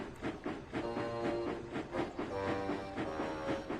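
Steam engines puff along a railway track in a steady rhythmic chuffing with a rolling, rumbling undertone, heard at moderate distance under a soft musical background.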